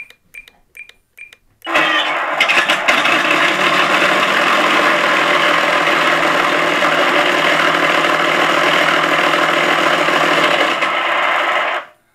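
Simulated twin-engine warplane sound from an ESS Air Sound unit in a Flightline RC F7F-3 Tigercat 1600mm model: a steady, loud droning engine note that starts abruptly after a few short clicks and holds evenly before cutting off.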